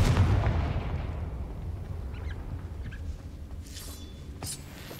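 A Confringo fire spell bursts with a loud, booming blast in Hogwarts Legacy, its heavy rumble trailing off over several seconds, followed by a few faint, sharp crackles.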